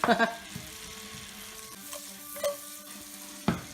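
Chorizo frying in butter in a paella pan, a soft continuous sizzle broken by a few stirring scrapes and knocks.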